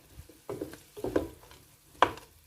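Rigatoni being stirred together with cauliflower and almonds in a pan, a few soft scraping and clattering strokes of a spoon with light sizzling, close and clear, ending in one sharper knock.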